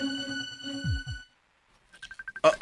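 A cellphone ringtone plays a melodic electronic tune, then falls briefly silent before a rapid series of short repeated beeps and a louder burst. It is heard clearly and close, with no talking over it.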